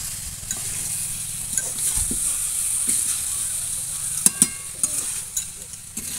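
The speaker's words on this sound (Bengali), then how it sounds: "আমি এদিকে চিকেন রান্না করছি।" Chicken sizzles in a pan as it cooks for a healthy home dinner, giving a steady close frying hiss with scattered clicks and scrapes from stirring.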